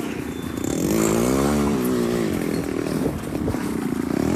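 A motorcycle engine fires up and revs loudly close by, its rising and falling pitch sweeping through a few throttle blips before settling into a rough idle after a freedom ride biking event.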